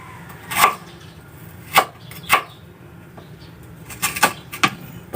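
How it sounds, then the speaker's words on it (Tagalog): A knife slices ginger on a cutting board: sharp, irregular thunks land near and clear, a few spaced strokes followed by a quicker cluster of cuts. "Pahabain lang natin ang paghiwa natin."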